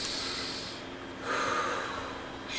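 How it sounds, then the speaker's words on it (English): A single deep breath taken close to the microphone, a soft rushing inhale followed by a longer airy exhale, alone and fairly quiet. "Now take a breath."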